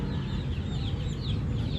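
Rhode Island Red chickens clucking in a steady, busy chorus close by in a livestock store, over a constant low rumble of background noise.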